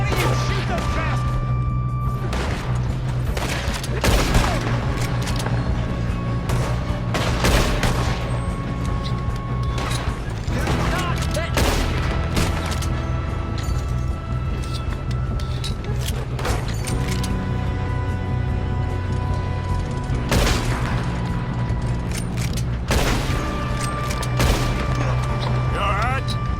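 Gunfire in a Red Dead Redemption 2 shootout during a train robbery: repeated sharp shots and bursts crack irregularly throughout, some close and loud, over a constant low rumble of the moving train, with voices shouting between.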